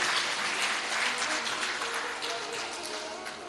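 Audience applause at a Hindu religious discourse, a dense wash of many hands clapping together, loud at first and tapering slightly over a few seconds, with no voices over it.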